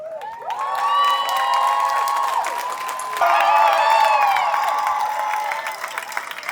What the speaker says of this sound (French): Encore plus d'applaudissements pour Lénie, pour la Pride de Kiev et pour toutes les Prides qui sont avec nous aujourd'hui